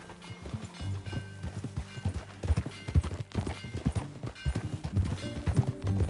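Horse hooves clip-clop steadily while riding in the Red Dead Redemption 2 video game, a close, rhythmic trotting beat with occasional faint voices and background game ambience.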